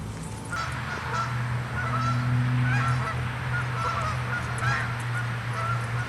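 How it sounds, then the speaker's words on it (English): Geese honking at a woodland pond, a steady chorus of repeated nasal honks from a flock at moderate distance, continuous over outdoor background noise with no talking. "There happen to be some geese here today."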